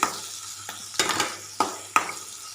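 Onions fry in a pan under a soft constant sizzle while a spoon stirs them, giving four or five distinct scraping clanks against the pan, close and fairly loud.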